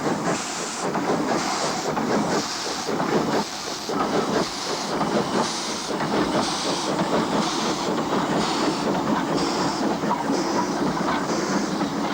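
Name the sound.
double-headed narrow-gauge train hauled by ZB class locomotives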